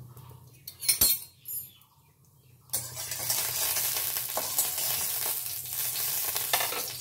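Panch phoron spices drop into a scant splash of oil in a wok: a couple of sharp knocks come first, then a loud, continuous crackling sizzle fills the rest of the stretch without talk.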